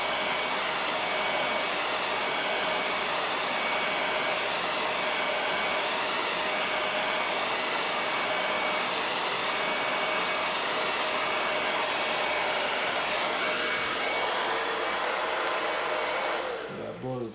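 A heat gun blows hot air steadily and loudly for the whole stretch while a sunset tumbler is being made, a constant rushing roar with no talk, cutting off sharply right at the end.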